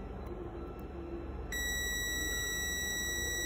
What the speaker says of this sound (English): So there's a long beep